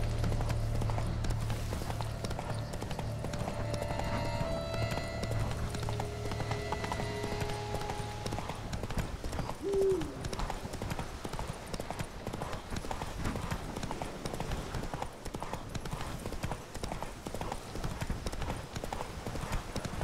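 Roach, the horse in The Witcher 3 game, gallops with rapid, rhythmic hoofbeats that carry on steadily throughout, joined by a brief whinny partway through.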